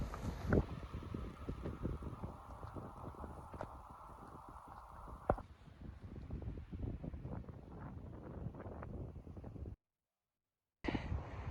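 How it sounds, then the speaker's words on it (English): Gusty wind buffeting the microphone outdoors high in the mountains, low rumbling bursts rising and falling, with a brief dropout near the end. "it's getting a bit windy up here"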